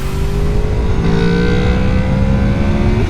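A Honda VFR 800 V-TEC RC46 II motorcycle engine pulls hard while overtaking, its loud, raspy note climbing steadily in pitch over heavy wind rush.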